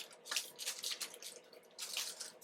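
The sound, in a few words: water dripped onto pot pie dough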